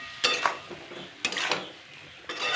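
A utensil stirring and scraping spices, sugar, turmeric and cumin with vegetables in a pan for a broccoli, potato and pea curry: a few distinct scrapes and clinks against the pan at a close distance, with soft background noise between them.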